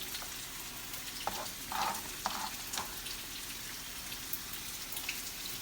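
Chopped onion frying in a pan with salmon for a breakfast dish, a steady soft sizzle with faint crackles and a few light clicks.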